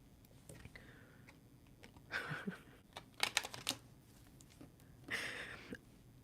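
Soft, close card shuffling, a few brief papery riffles and taps at low volume amid quiet background hiss.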